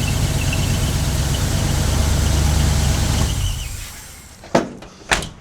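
A 1974 GMC truck's V8 engine idles loud and steady with a low rumble and a squeaking belt, then cuts off partway through, followed by a couple of sharp knocks in the quiet.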